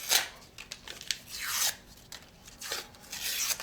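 Refrigerated roll dough tube being peeled open at home, a soft rasping, tearing paper sound in several short close strokes.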